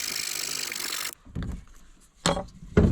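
A small folding hand saw cuts into a wooden pickaxe handle, a dense rasping stretch of quick strokes, then a pause and a few separate scraping pulls, close by.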